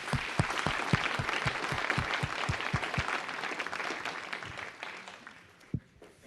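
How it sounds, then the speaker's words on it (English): An audience at a panel discussion on development and populism applauds, with steady clapping and a few loud individual claps that taper off toward the end. "One round of applause for our panel."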